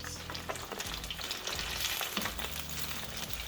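Chicken and dressing balls fry in a pan of hot oil with a steady, dense sizzle, close and continuous, with faint clinks of tongs turning them.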